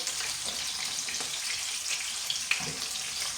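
A soft, steady sizzle of chopped meat cutlets frying in a pan until golden, with faint crackles and a small pop, close by and quiet.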